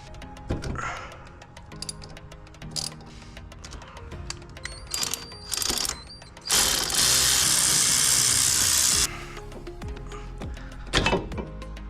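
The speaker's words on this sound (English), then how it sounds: "Or you can just use a regular screwdriver that has a bit point. And put in your bit. And unscrew that motor." Screwdriver bit turning out the rear brake caliper motor on a 10th-generation Honda Civic, heard as close ratcheting clicks and metallic clunks, with a long steady whirring burst in the middle and a few sharp knocks toward the end.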